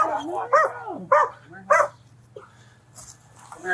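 A police dog barks three loud, close barks in quick succession during an arrest, with a low hum underneath and voices talking nearby.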